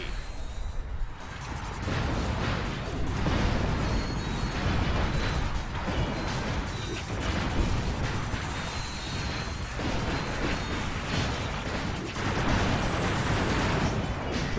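Explosions and heavy combat noise in the video game Ratchet Deadlocked form a dense, rumbling mix of booms, crashes and mechanical clatter that runs continuously at moderate loudness with no talking.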